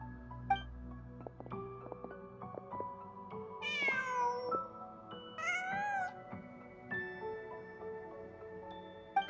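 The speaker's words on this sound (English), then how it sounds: "Just a cat." A cat in Genshin Impact meows several times in rising, drawn-out calls over a steady bed of game music, with no talk.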